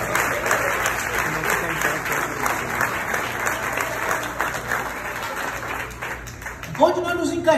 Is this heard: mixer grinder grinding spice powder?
no